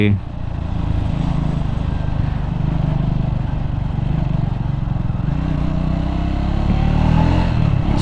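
A Triumph Scrambler 400 X motorcycle accelerating, its engine droning loud and steady with a low rumble and wind rush throughout, rising slightly toward the end.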